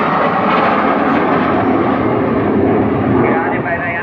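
Alpha Jet aircraft flying at an air show during the 2017 MotoGP weekend in Austria: a loud, continuous jet roar that stays steady throughout, with talk mixed in.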